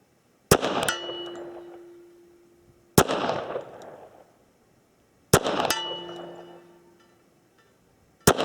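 A stainless Wilson Combat Classic .45 ACP 1911 fires at a steel target 62 yards out, with four sharp reports each followed by a metallic ring that fades over a second or two, the shots spaced a few seconds apart.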